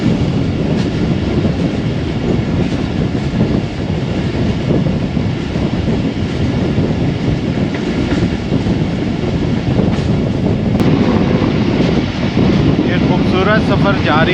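Aboard the Khyber Mail passenger train in cold, foggy Punjab weather, a loud, steady rumble of wheels and carriage noise rolls on without pause, with faint rhythmic clatter and wind rushing past.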